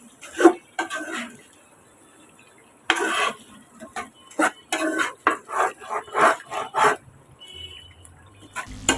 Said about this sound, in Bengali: 10 মিনিট রান্না করার পরে আমি ঢাকনাটা উঠিয়ে আবার একটু নেড়ে দিব।